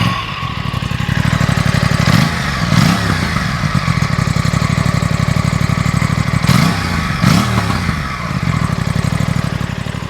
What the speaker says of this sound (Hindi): अभी इसका मैं आपको एग्जॉस्ट सुनाता हूँ।